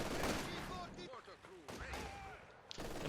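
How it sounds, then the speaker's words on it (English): Light machine gun fire from the real-time strategy game Company of Heroes 2, with Grenadiers firing on penal troops; rapid bursts of gunfire run through the clip under a voice talking over it. "Penal troops there taking heavy light machine gun fire from the Grenadiers."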